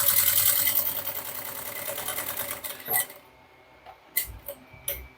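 A sewing machine closes the sides of a bag in a fast close whirring run that slows and stops, followed by a few sharp handling clicks and knocks.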